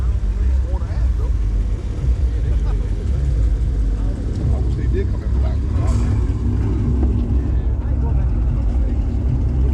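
A loud, deep engine rumble from a ProCharger-supercharged Cadillac CTS-V at a rev battle runs steadily throughout, with voices talking over it nearby.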